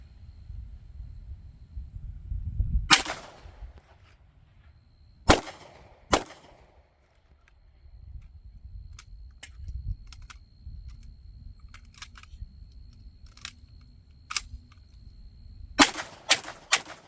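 Gunshots from a Century Arms AP5 pistol fired at targets on an outdoor range, loud sharp reports in scattered singles and a quick closing burst, with quieter distant shots between and no talking.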